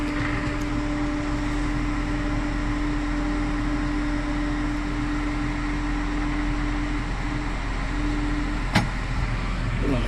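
A tractor engine runs steadily while the machine drives forward, a constant low mechanical hum and drone with no breaks, moderately loud and close throughout.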